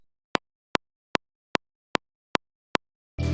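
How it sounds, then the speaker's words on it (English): A metronome ticks straight eighth notes, seven sharp, evenly spaced clicks, close and dry against silence, before a burst of other sound cuts in at the end. "So the metronome by itself playing straight 8 sounds like this."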